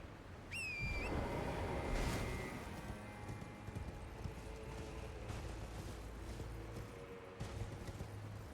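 Rhythmic hoofbeats of a galloping horse in Elden Ring: Shadow of the Erdtree run steadily throughout, with a brief whistle-like tone near the start and game-like background noise.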